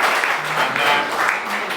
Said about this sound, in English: we do need to give a warm round of applause to our potential parliamentary candidates